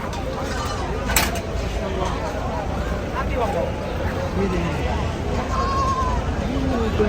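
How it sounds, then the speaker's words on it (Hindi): Small goats bleat now and then at a crowded Makkah livestock market during Hajj season, under constant babble of voices and market noise, with someone talking close by. "और ये देखिए छोटी छोटी बकरियां"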